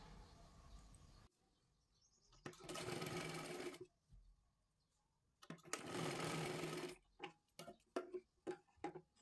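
A sewing machine stitches a katori blouse in two sustained close runs separated by quiet pauses, followed by a series of short, sharp bursts as the stitching stops and starts.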